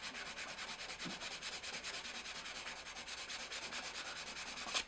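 Close, steady rubbing of sandpaper on wood at a glued gap, in quiet repeated back-and-forth strokes with no talking.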